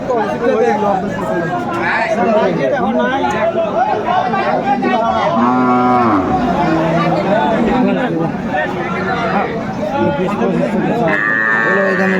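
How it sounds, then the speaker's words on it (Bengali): A cow with her calf moos in a few drawn-out calls at a busy cattle market at Aftabganj haat, Dinajpur, half buried under constant crowd chatter and nearby talking. "সুন্দর মানের গাভী বাছুর আমরা দেখছিলাম"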